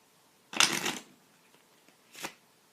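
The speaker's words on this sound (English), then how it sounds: "Shuffle it, mix it up all you'd like." Two close riffle shuffles of a card deck, the first a longer crisp flutter, the second a brief quick one after a pause, with no talking.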